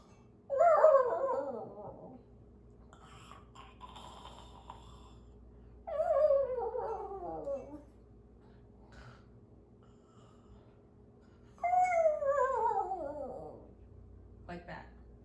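A person imitates a dog sleeping on its back, giving three drawn-out snorting, whimpering dog-like sounds spaced several seconds apart, close and fairly quiet, with silence between.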